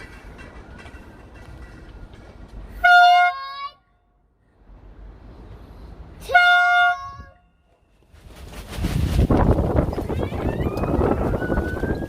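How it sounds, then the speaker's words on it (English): A train-style air horn is blown in two strong harmonic blasts a few seconds apart, with outdoor wind and voices around it and a loud rushing gust of noise following. "That was a weak horn blow."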